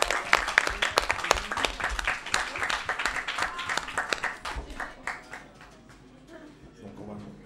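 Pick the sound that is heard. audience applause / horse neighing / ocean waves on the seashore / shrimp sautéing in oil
audience applause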